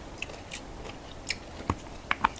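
Someone chewing Thai herbs such as kaffir lime leaves and fingerroot with peppercorns from a spicy stir-fried scallop dish, several sharp, close crunches and bites spaced irregularly against a quiet background.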